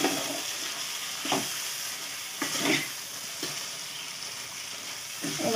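Ground cumin and turmeric frying in oil in a pan for a mutton dish: a soft continuous sizzle with occasional scrapes and stirs of a spatula, no speech.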